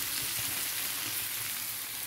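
Vegetables sautéing in a pan with pepper for a potato and vegetable dish, giving a steady, soft sizzle and crackle that carries on unbroken, with no voices.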